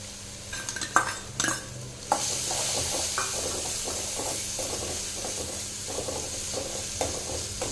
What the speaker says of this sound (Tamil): எண்ணெய் வந்து சூடாகிட்டு இருக்குங்க நம்ம பூண்டு சேர்த்திக்கலாம்